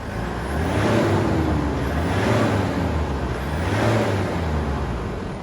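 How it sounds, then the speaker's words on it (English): A 2010 Ford Ranger with a 3.0L diesel engine revs out to redline in three broad surges, the loud engine roar swelling and easing back each time. "it was actually revving all the way out to redline"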